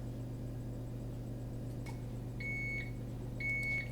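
An oven timer beeps twice in a kitchen, each a steady, high, sustained electronic tone lasting about half a second, faint over a low constant hum of an appliance.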